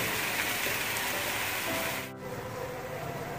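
Eggs with coriander leaves and ground black pepper frying in a pan for an egg ghotala, a steady broadband sizzle that holds loud and continuous, dipping slightly near the end.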